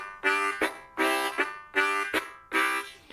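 Harmonica played in short tongue-articulated bursts, four paired chord pulses in an even rhythm, each a bright reedy chord followed by a quick accent, close and clear with no talking.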